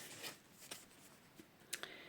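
A deck of oracle cards is shuffled softly nearby, a few scattered faint swishes and taps over low room hiss.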